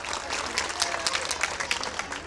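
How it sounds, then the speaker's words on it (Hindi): Audience applause at a mushaira, an Urdu poetry gathering, welcoming the guest poet Rehan Hashmi: a dense, steady roar of many hands clapping, close and loud throughout. "तालियों से इस्तकबाल फरमा दें आप हजरात।"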